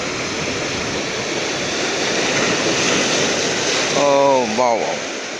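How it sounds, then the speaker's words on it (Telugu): Rough sea surf crashes on an Andhra Pradesh shore in a loud, continuous roar mixed with wind noise, and a voice speaks briefly near the end. "మామూలుగా లేదు సముద్రం ఈరోజు అందుకే సముద్రానికి వేటకెళ్ళలేదు"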